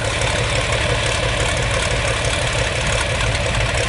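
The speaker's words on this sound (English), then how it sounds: "Maybe you enjoyed some sounds of a straight 5-inch pipe on a John Deere 4020." Loud, steady John Deere 4020 diesel tractor engine idling through an open straight 5-inch pipe, a deep continuous rumble with a throaty knock and no talking.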